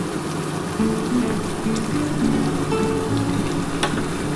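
Chilli fish made with rita or aar fish, onions and capsicum fries in a pan over a high gas flame, giving a steady, close, loud sizzle and hiss with small crackles throughout.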